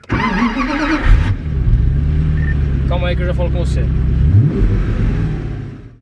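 A Pagani Zonda R supercar engine revs and rumbles at a demonstration, with a loud sustained drone and a rising rev near the end, while a person speaks over the start.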